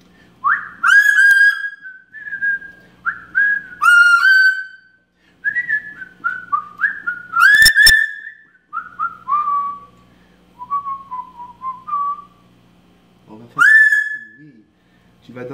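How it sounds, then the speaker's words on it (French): A person whistles a wandering tune in short phrases, clear and close, with brief pauses between the notes. "Est-ce que tu veux siffler avec papa?"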